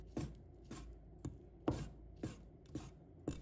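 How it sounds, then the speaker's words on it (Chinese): A knife slices soaked dried shiitake mushrooms into strips on a cutting board, seven crisp, evenly spaced taps close and quiet, with no talking. "再准备几个干香菇，把它切成条。"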